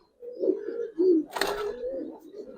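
A Rampuri pigeon coos in soft, low throaty phrases at close range, with a brief burst of rustling or flapping in the middle of the calls.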